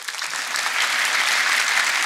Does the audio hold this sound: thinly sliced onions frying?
no